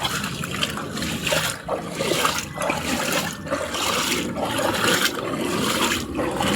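Floodwater rushes continuously through a street in Bacoor, giving a dense, steady watery roar with rhythmic surges. The sound is close and fairly loud, with no talk over it.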